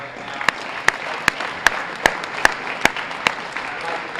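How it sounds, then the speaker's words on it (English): An audience at a high school wrestling meet claps steadily for the wrestlers' parents, a dense sustained round of applause with sharp individual claps standing out near the microphone. "let's give all the parents a big round of applause right now"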